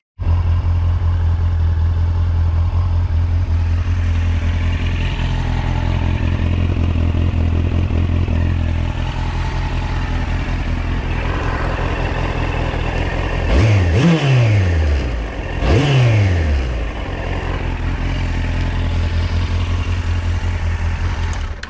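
A Yamaha FZS 1000 Fazer motorcycle with carburetors just serviced idles loudly and steadily up close, then gets two quick throttle blips near the end before settling back to idle.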